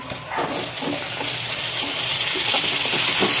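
Tomato, onion and green chillies sautéing in a pan, an ongoing sizzle with soft scrapes of stirring, growing slightly louder, and no voices.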